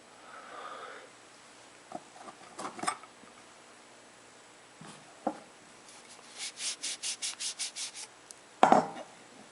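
Dry clean cloth rubbed over copper pipe before soldering: a run of quick, even wiping strokes, about eight in a row, with a few scattered rubs before and one louder scrape near the end, close and clear.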